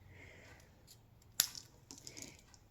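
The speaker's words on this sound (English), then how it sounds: "So I'm just going to cut that a bit narrower." One quiet, sharp snip as a strip of cardstock is trimmed narrower for a Z-fold card, followed by faint rustling of the paper.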